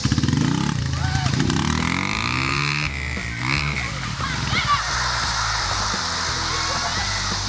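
A motorcycle engine revs hard and unevenly as a beginner grabs the throttle too much, pitch surging up and down in loud, close bursts before settling into a steady roar.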